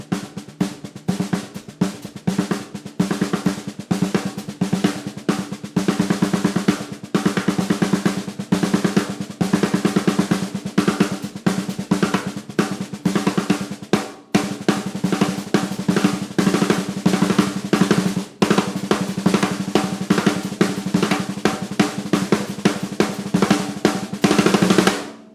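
Drum set played in continuous paradiddle patterns with randomly stuttered single strokes, rapid dense hits with cymbal wash throughout, close and loud, no talking.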